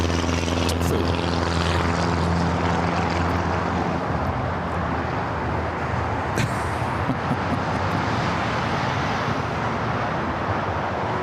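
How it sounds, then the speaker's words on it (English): A Japan Airlines Boeing 777-300ER jet rolls for a south side takeoff at LAX, its engines roaring loud and steady throughout with broadband rumble and no voices. "777-300ER heading down for a south side takeoff"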